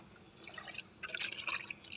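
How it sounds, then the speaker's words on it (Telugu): Water mixed with coffee powder is poured onto potted plants, giving soft trickling and dripping splashes that build into a brighter splatter midway, close and quiet with no talk. "కాఫీ పొడి ఈ వాటర్ని పోస్తున్నాము."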